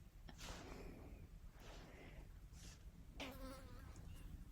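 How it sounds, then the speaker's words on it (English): A housefly buzzes around indoors in a few faint, intermittent whining passes that rise and fade as it moves near and away, over quiet room tone. "there's like a fly buzzing around."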